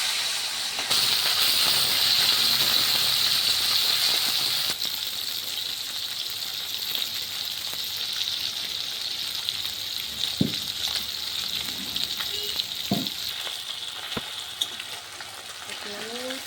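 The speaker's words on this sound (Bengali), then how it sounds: "তেল গরম হয়ে এসেছে, এখন আমি দিয়ে দিব মৌরলা মাছ।" Mourola fish frying in hot mustard oil in a kadai, a steady close hiss and sizzle that is loud at first and then settles lower, with a few clinks of a utensil near the end.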